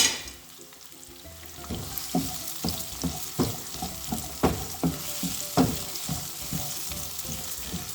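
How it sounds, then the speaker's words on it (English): Onion sizzling in a pan, a steady frying hiss broken by regular stirring scrapes and clacks about every half second, close and fairly loud with no talk. "Let the onion cook for a couple of 2 or 3 minutes."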